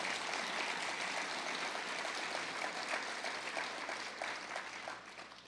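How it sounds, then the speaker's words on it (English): An awards-ceremony audience claps for volunteers, a fairly faint, even wash of many hands that fades gently toward the end. "let's give a big round of applause to all the volunteers in the room"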